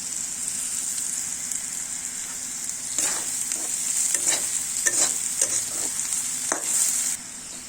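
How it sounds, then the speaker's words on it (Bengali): Crushed ginger and garlic sizzle steadily in a hot pan for a pasta dish while a spoon stirs them in a series of close, scraping strokes. "এখন দিয়ে দিলাম থেতো করে রাখা আদা রসুন। আবারও ভালোভাবে নাড়তে থাকবো।"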